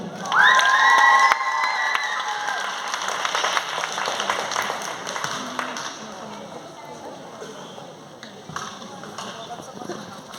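A crowd claps and cheers for young female competitors at an awards ceremony in Wieliczka, loud at first and then thinning to scattered clapping. Voices shout among the applause and a loudspeaker voice is heard.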